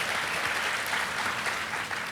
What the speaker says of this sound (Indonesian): Tepuk tangan dong buat Tuhan kita Yesus Kristus.